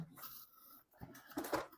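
Several dogs whining and whimpering indoors at a moderate distance, a few short uneven cries with breathy panting between them, and no talking.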